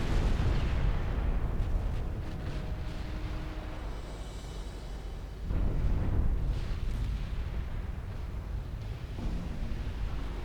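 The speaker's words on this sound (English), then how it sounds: "there are lots of those torpedoes just exploded" Torpedo hits exploding in the naval warfare game Ultimate Admiral Dreadnoughts, a dense run of heavy booming blasts that rumble continuously, swelling again midway, with no talk over them.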